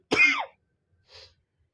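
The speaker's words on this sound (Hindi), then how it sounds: "सॉरी दोस्तों, तो खांसी आ गया था।" A single sharp, close cough, followed a moment later by a softer, brief throat sound, then silence.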